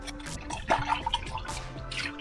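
Water runs from a tap in a steady, close trickle, with drips and splashes into a vessel below and faint background hum; no one speaks.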